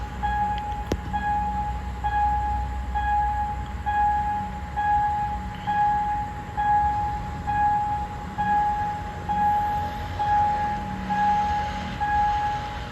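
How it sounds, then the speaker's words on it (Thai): A train passes the level crossing on Si Ayutthaya Road at the Chitlada signal box in the evening, a steady loud rumble with rhythmic swells, while a crossing signal repeats a tone throughout. "นี่รถไฟมาแล้วนะครับผม"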